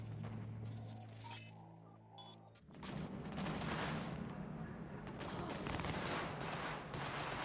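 Gunfire in Cyberpunk 2077: a dense, continuous burst of rapid shots and clattering impacts runs loud through most of the stretch, following a quieter opening with a low droning hum and a few metallic clinks.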